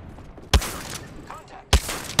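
Two to three loud, sharp game gunshots in a battle royale shooter, spaced apart with a quiet gap, over faint background game sounds.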